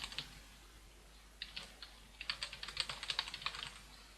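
Quiet keystrokes on a computer keyboard as a template name is typed, starting with a few taps, then a pause, then quicker, irregular clusters of clicks close by.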